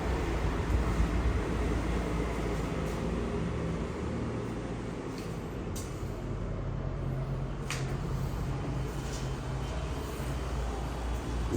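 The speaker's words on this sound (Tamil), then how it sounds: "கொஞ்சம் வண்டி சவுண்ட் கேட்கும், அட்ஜஸ்ட் பண்ணிக்கோங்க." Vehicle traffic rumbles continuously near an abandoned children's home. The low, steady drone of passing vehicles sounds moderately distant, with a few faint higher clicks over it.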